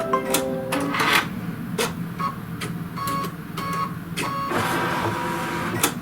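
An embroidery machine stitching a design in its hoop, producing rapid mechanical whirring and repeated clicking and thumping bursts in an uneven rhythm, close and fairly loud, with no speech.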